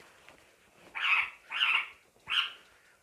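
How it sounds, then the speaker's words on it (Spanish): Three short barks from a dog at a moderate distance, evenly spaced over a quiet background. "Y ahí están los perritos ahí,"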